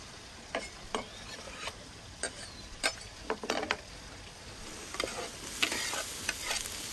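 Onion sizzles softly in a hot pan at a mountain campsite, a spoon or spatula scraping and knocking through it in irregular strokes over steady frying hiss.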